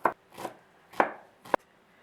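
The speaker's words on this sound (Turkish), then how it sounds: "Şimdi rokayı doğramak istiyorum." A knife chops arugula on a cutting board for a tabbouleh salad, landing four distinct, fairly crisp strokes spaced roughly half a second apart, close and clear with no talking.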